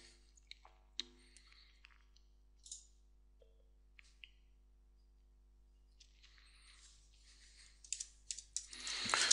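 Scattered, uneven keystrokes on a computer keyboard while writing a new blog post, sparse taps with pauses and a denser clattering flurry at the end, close and quiet.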